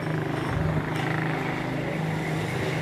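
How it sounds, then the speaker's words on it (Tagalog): Noisy vehicles passing along a road, heard as a continuous low engine rumble and traffic drone at moderate loudness with no voices over it. "maingay yung mga sasakyan"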